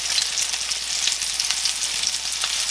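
Reuben meatballs sear in a hot skillet with a dense, continuous bright sizzle and crackle, close and steady, with small spitting pops and no voices.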